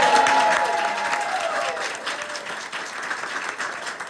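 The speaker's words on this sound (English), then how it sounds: "let's give a big round of applause for Clayton" Sustained audience applause at a mental health clinic's grand opening, dense clapping from a crowd that gradually fades slightly, with some voices mixed in.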